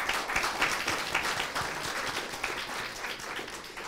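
An audience applauds at a debate event, dense steady clapping filling the room at an even loudness throughout.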